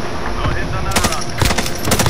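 Rapid automatic gunfire from the Warzone video game, heard in loud, dense bursts over a steady background, with voices talking over the shooting.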